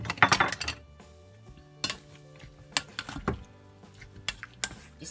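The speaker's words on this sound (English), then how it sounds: "Just mix this well until all the ingredients are well combined" Marinated beef being stirred in a bowl, with wet squishing and scattered clinks of a utensil against the dish in irregular bursts, fairly close and moderately quiet.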